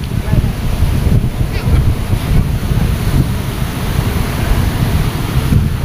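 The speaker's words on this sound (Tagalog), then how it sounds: "Gawa ng malakas na naman ang dagat, hindi na naman makapamalaot." Rough, heavy sea surf crashing continuously, loud and close, with steady wind buffeting the microphone and a deep rumbling wash of waves throughout.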